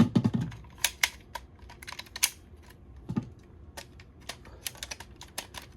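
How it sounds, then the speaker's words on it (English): Small sharp clicks and snaps of a plastic toy transformation belt buckle being handled and clicked together, irregular and close, with no talk. "Then it just clicks back together?"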